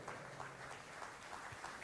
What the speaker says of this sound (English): once again, a big round of applause to Jason Liu